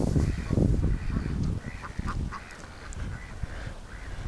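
Farm ducks and geese in a barn pen honk and quack loudly and continuously, a dense overlapping flock chorus close by.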